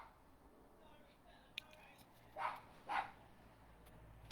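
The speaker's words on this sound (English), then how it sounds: "The dog is barking at you because you are standing in front of the gate, miss." A dog barks at someone standing by a gate, two quick, fairly faint barks at a distance over a quiet, hissy background.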